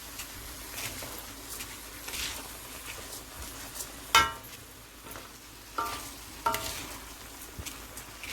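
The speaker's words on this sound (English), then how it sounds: "I'm going to let this fry for another 2 minutes" Pigeon peas and rice frying in a pot, giving a low, steady sizzle with soft stirring scrapes and a few brief clinks of a utensil against the pot, close and fairly quiet, with no voices.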